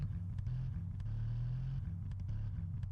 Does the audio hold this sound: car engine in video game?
yes